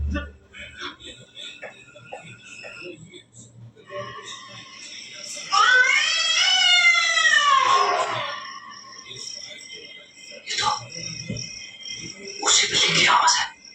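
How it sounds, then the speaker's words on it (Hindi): A cat's drawn-out wailing cry from a 1988 Hindi horror film, rising and falling in a long harmonic wail, with a shorter cry near the end over faint background sound. "उसी बिल्ली की आवाज है।"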